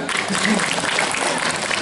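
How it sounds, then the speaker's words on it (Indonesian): Dense applause from an audience at a Balinese Drama Gong theatre performance, steady clapping filling the whole stretch at moderate loudness. "tepuk tangannya luar biasa tepuk tangan"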